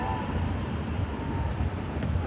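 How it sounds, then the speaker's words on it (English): Steady rain pours down during an outdoor football match, with a continuous, even hiss of water on the pitch and surroundings. It is fairly loud and unbroken, with no voices over it. "The rain is coming on down again."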